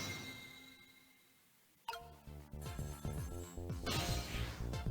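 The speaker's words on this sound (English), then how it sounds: "The telephone is ringing." A telephone rings in the Ghost Trick: Phantom Detective game, entering suddenly and repeating over layered game music, fairly faint.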